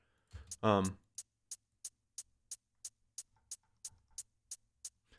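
A processed hi-hat sample from an electronic music project, EQ'd and given reverb, ticks out alone in a steady, evenly spaced pattern of short bright hits after a brief burst of another sound at the start.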